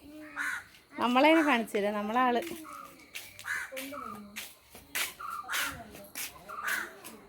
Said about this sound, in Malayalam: കാക്കരെ